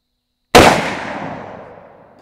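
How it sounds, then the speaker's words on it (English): A Henry All-Weather lever-action rifle in .45-70 is fired from a shooting bench. A single loud, close blast cracks out after a short silence, then a long echoing tail fades slowly. "These things really kick hard right here, shooting from a bench."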